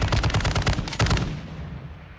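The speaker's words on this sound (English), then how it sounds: "I don't think this gun could be any louder." Loud rapid automatic gunfire from a light machine gun in a first-person shooter, two close bursts of fast shots that fade into a decaying echo, no talking.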